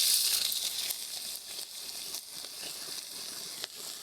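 Finely chopped onion hits hot oil in a kadhai, giving a bright, hissing sizzle that is loudest at first and then settles into a steady fry, with a few faint clicks and no talking.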